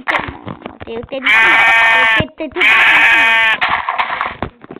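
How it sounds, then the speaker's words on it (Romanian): Minecraft sheep bleats in two loud, drawn-out bursts in the middle, surrounded by someone talking excitedly in Romanian at the start and end. "Oaie!"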